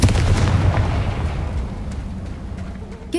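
A Confringo fire spell explodes in the video game Hogwarts Legacy, a sharp booming blast at the start that rumbles and decays over a few seconds.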